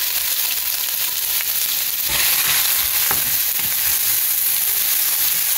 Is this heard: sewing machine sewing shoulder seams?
no